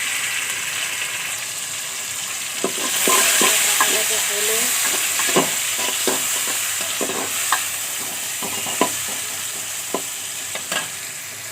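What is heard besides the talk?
onions frying in a pan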